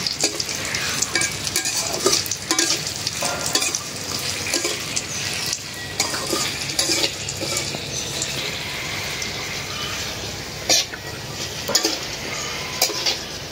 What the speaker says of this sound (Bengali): এই যে এখন শুকনা মরিচগুলি এই তেলে ভাজে নেব।